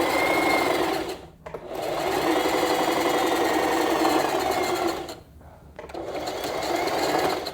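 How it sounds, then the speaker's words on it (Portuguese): A domestic sewing machine stitches along a marked line while sewing elastic-waist trousers. It runs in a fast, steady mechanical chatter, pauses briefly twice and then carries on, close and loud. "desce o calcador e siga a costura marcada"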